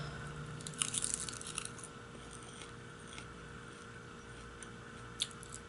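Crunchy seaweed snack with salt and onion seasoning being bitten and chewed close up, a cluster of crisp crunches early on, then quieter chewing and a lone sharp crunch near the end.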